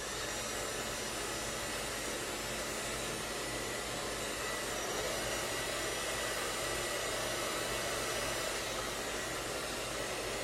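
A handheld blow dryer runs continuously while drying hair, a close, steady, loud whoosh of fan and airflow with no pauses and only slight shifts in tone as it moves.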